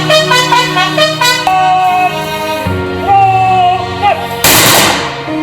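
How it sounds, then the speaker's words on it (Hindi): A ceremonial volley of air firing salutes a police inspector at a state-honours funeral at Rambagh cremation ground in Indore. One loud, sharp burst cuts in near the end over sustained band music. "हवाई फायरिंग, राजकीय सम्मान के साथ अंतिम विदाई"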